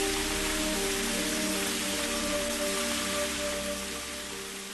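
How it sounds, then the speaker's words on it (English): Rain splashing into a small pool among piled broken rocks in a Chinese garden: steady hissing patter with faint tonal ringing, gradually fading toward the end. "When it rains, sight and sound of the splashing rainfall are a delight to eye"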